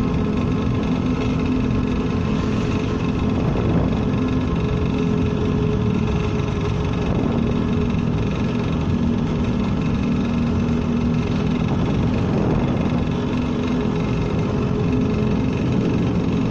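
A Vespa scooter engine hums steadily while riding along a straight road, a constant droning tone with wind rush throughout and no talk.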